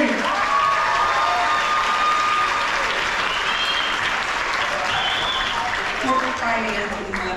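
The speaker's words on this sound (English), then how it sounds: "clap it up for the queen." A university lecture audience bursts into loud, sustained applause mixed with cheering and whoops, a dense continuous roar of clapping from a large crowd that holds steady throughout.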